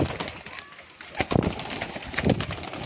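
Pigeons at a pigeon-keeping spot give soft, low, close cooing that comes and goes in short bursts, with rustling and movement around them.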